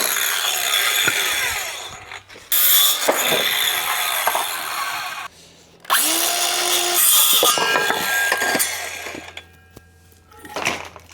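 A power drill drives screws into timber pieces of a homemade bike stand, with several loud whirring bursts separated by short pauses and handling knocks.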